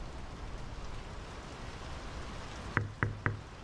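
Steady rain in the video game Draugen, a constant soft hiss of falling water, broken near the end by three sharp knocks.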